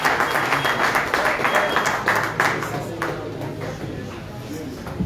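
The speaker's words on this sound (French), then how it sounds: "Est-ce que vous pouvez applaudir?" Audience applause at a church ministry school session, steady clapping from a crowd for a few seconds that thins and fades toward the end, with a voice over it.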